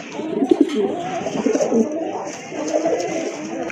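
Pigeons at a farm coo softly and repeatedly close by, a low burbling rhythm with brief rustles, alone without talk.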